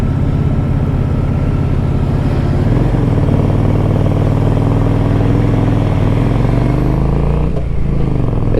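A motorcycle on a quick ride, its engine droning steadily up close with a shift in pitch partway through and brief rises as it changes speed, continuous and loud with no talk.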